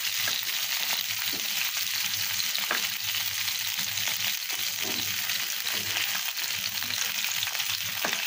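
Rohu fish pieces fry in a pan of oil, giving a dense, continuous sizzle with light crackles throughout and no talking.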